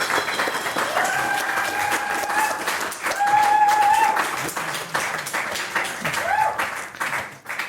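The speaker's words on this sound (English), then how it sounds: "Cheering there." An audience at a live podcast event applauds and cheers, a dense sustained wash of clapping with a voice talking over it.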